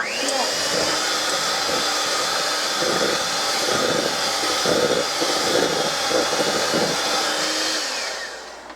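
A handheld electric mixer whirs continuously at close range while making butter cookie dough, a loud steady motor drone with rhythmic thumps of the beaters against the bowl, winding down at the end.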